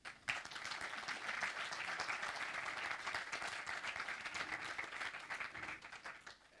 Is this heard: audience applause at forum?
yes